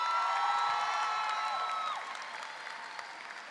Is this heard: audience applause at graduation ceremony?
yes